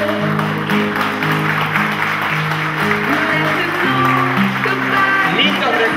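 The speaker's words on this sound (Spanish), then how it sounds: "Y el aplauso es para ellos tres." Guests applauding during a quinceañera candle ceremony, moderate clapping running under prominent sustained music with held melodic tones, the music dominating throughout.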